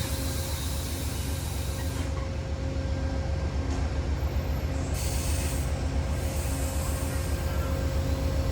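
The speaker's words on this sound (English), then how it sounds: "on the train, heading for Oklahoma City on the Heartland Flyer" Amtrak's Heartland Flyer rolls on toward Oklahoma City, heard from aboard as a steady rumble of wheels on rail with a constant hiss and faint squeals.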